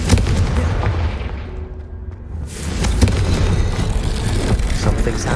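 Confringo fire spell exploding in Hogwarts Legacy: booming blasts and crackling bursts, a brief lull, then another heavy blast followed by rumbling and crackle.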